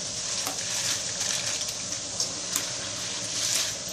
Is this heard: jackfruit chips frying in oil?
yes